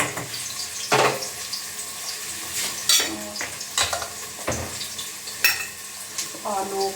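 Onions fry in a home kitchen pan as a spoon stirs them, giving a soft continuous sizzle punctuated by sharp, irregular scraping and clinking strikes of the spoon against the pan.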